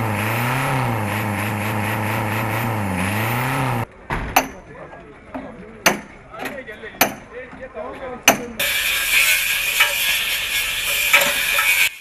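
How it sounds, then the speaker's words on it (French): At a scrapyard in Abobo, a steady droning engine runs before sharp metallic clanks and hammer strikes ring out, followed by a harsh, loud grinder-like whine, with vehicle noise throughout and a voice partly over it. "La casse, c'est aussi les bruits de moteurs et de meules."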